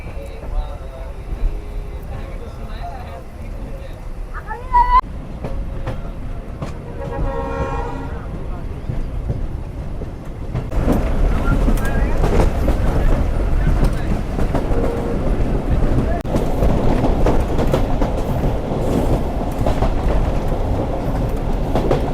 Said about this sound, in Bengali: দুই মিনিটের বিরতি শেষে আমাদের ট্রেন ছেড়ে গেল আমনুরা জংশন রেলওয়ে স্টেশন থেকে